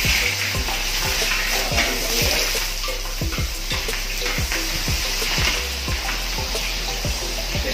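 Chopped onions sizzle steadily in hot cooking oil at the start of a large-batch squid dish, a dense frying hiss broken by regular utensil scrapes and knocks as they are stirred.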